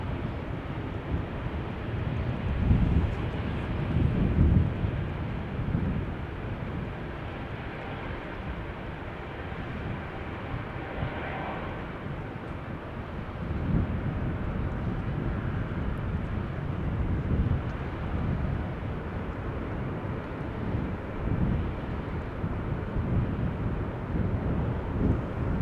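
Airbus A220 airliner departing Amsterdam Schiphol, a steady distant jet rumble with wind buffeting the microphone, swelling slightly at moments as the engines push the aircraft along.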